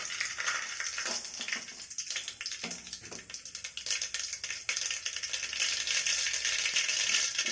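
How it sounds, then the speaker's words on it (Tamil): Mustard seeds frying and popping in hot oil for a Tamil kuruma, a steady bright crackling sizzle with scattered pops running throughout, fairly close and with no voice. "எண்ணெய் காய்ச்சிச்சு கடுகு போட்டுக்கலாம்"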